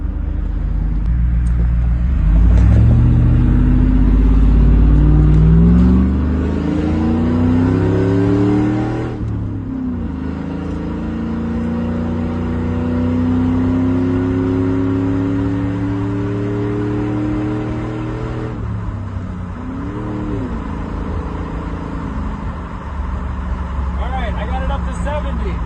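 A vehicle with a 4L60E automatic transmission and a Power Wheels style shifter pulls away in first and accelerates, engine rising and falling in pitch through repeated revs, loud and close, with someone talking over it.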